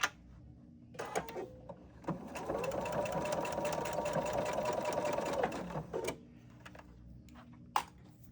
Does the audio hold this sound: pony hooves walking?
no